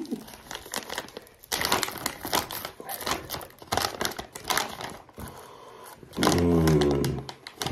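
Someone tears open a plastic beef jerky package, giving bursts of close crinkling and rustling plastic with a louder ripping stretch near the end.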